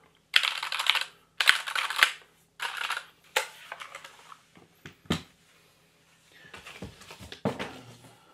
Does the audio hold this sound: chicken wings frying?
no